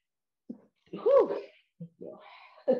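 A single person's sneeze during a yoga class, one sharp burst with a short intake before it, followed by a few quieter breathy sounds, close to the microphone.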